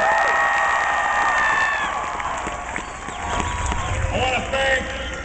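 A political rally crowd in La Crosse, Wisconsin cheers and applauds loudly, a dense roar of clapping, whoops and shouting that ebbs slightly midway then swells again.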